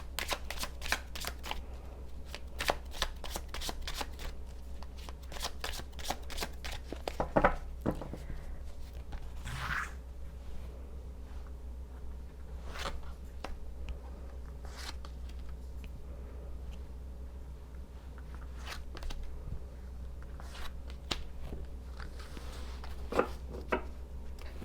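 Tarot cards riffled and shuffled, with a burst of rapid crisp flicks at the start and then scattered card snaps and slides as cards are drawn, close and fairly quiet over a steady low hum, no voices.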